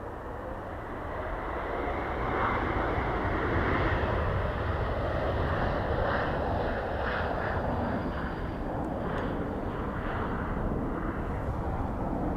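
An airplane at Dublin Airport sends out a loud, sustained jet engine roar that builds within the first seconds and rumbles on steadily at close range, with no voices.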